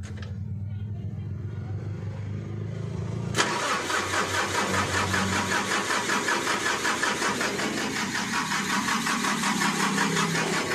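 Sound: Mitsubishi Canter 125ps truck engine cranking, failing to start

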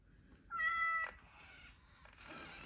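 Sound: robotic cat metaCat purring mechanical sound and meowing

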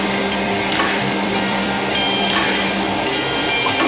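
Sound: stir-frying pointed gourd and potato curry in a pan

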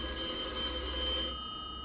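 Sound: smartphone ringing like a desk telephone in a video game

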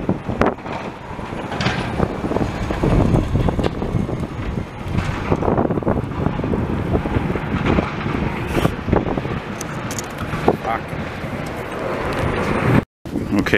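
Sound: strong wind in a snowstorm

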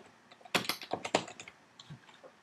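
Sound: typing text on a computer keyboard

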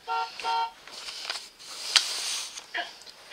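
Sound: truck horn honking

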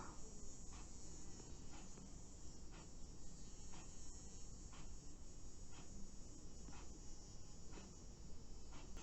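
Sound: housefly buzzing

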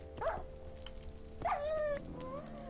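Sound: dog barking in Minecraft video game

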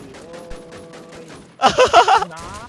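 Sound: gunfire in a video game

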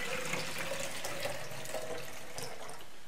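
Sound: water poured into base of DIY self-watering seed starter

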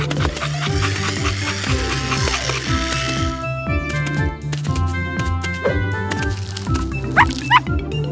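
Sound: cartoon puppy barking to call friends

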